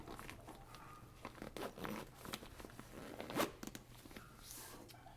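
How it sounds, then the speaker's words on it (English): A zipper is pulled shut on a pouch of a packed bug out bag, giving a close, scratchy rasp in several short runs, with rustling of the gear in between. "Zip that up."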